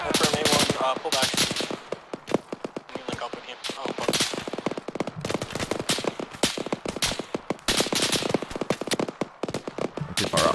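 Dense, rapid bursts of automatic rifle and machine-gun fire from an Arma 3 firefight, loud and continuous with overlapping shots near and far, broken by brief pauses; a voice speaks faintly beneath the shooting.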